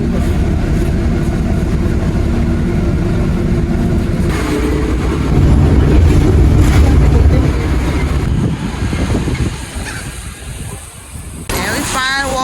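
Ride aboard a city bus, with a low rumbling engine and rattling cabin noise that shifts after a few seconds and thins toward the end, and a person talking over it.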